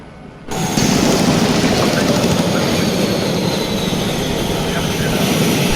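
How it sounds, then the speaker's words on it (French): A helicopter in a video game, its rotor and engine roar starting abruptly after half a second of quieter sound, then holding steady and loud to the end. "Donc en fait, on est sûr que c'est un hélico là."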